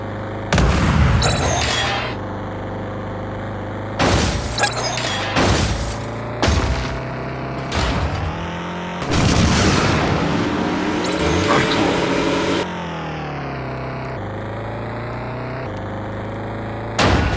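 A car racing video game with rocket weapons and nitro boosts: a droning engine tone broken by repeated loud booming blasts and roaring boost bursts, one after another.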